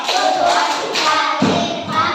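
Students in an elementary classroom clap out a folded-hand clapping pattern together, a dense, continuous rattle of hands close by that shifts in rhythm partway through.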